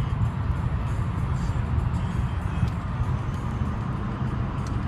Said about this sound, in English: driving through a tunnel